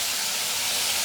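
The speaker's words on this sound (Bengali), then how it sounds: "মশলাটাকে কষাবো।" Spice paste frying in a pan, a continuous close hissing sizzle, steady and alone throughout a brief moment.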